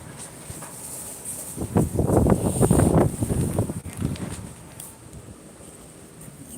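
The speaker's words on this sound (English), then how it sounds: "It's very windy today." Strong wind gusts outdoors roar across the microphone, swelling into a loud buffeting rush for a few seconds before easing back to a softer steady blow.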